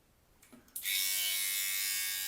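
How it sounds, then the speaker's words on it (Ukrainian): A cheap MLT electric trimmer, a copy of the Philips OneBlade, switches on after a faint click and runs with a loud, steady buzz while shaving about a centimetre of stubble in a bathroom, close to the listener. "Ну що, друзі, пробуємо бритися."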